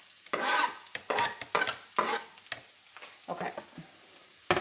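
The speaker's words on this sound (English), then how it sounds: "And I got some of these onions on the stove." Onions fry in a pan on the stove for vegan lasagna, producing bursts of crackling sizzle and stirring in short pulses, up close, with one brief spoken word.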